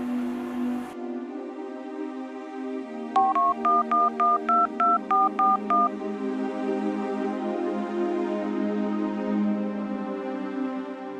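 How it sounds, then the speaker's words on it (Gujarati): Telephone being dialed in a drama scene: about nine quick, evenly spaced touch-tone beeps, preceded and followed by a steady low electronic hum. "ફોન તો કરું."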